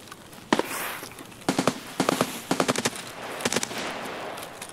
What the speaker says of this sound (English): A lot of shooting, actually, not a little bit.